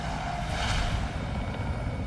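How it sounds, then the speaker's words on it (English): Three Westland Wessex helicopters fly toward a glacier, a mix of single-engine Wessex 3 and twin-engine Wessex 5 machines, giving a steady, loud rotor and engine roar with no voices. "Three helicopters head for the glacier."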